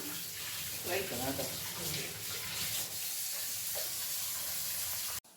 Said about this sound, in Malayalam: ഇനി ഇതിലേക്ക് കുറച്ച് വെള്ളം ഒഴിച്ചു കൊടുക്കണം